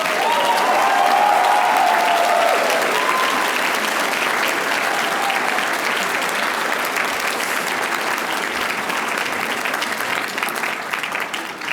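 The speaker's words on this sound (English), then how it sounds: "how about one more round of applause for our graduate students?" A graduation ceremony crowd gives graduate economics students another round of applause, sustained dense clapping that fills the hall and slowly tapers, with a brief cheer or whistle early on.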